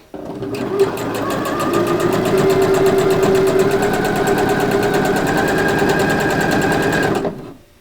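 A sewing machine stitches a dress hem in one steady, continuous run of rapid needle strokes, close and fairly loud, starting abruptly and stopping near the end with no talking.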